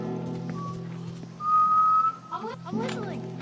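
A character in The Last of Us video game whistles one long clear sustained note, then a quick rising and falling flourish over a low steady game background hum, with a voice speaking nearby.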